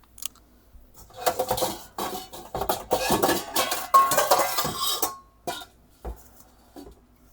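A large stainless steel saucepan clanks and rattles in a series of close, sharp knocks and scrapes, with quiet pauses between handling.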